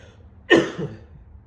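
A single sharp cough bursts out nearby, followed by a short throaty rasp, in an otherwise quiet setting.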